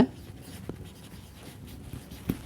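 A pen writes briefly on paper during a math lesson, with soft close scratches and a couple of faint taps over a quiet background.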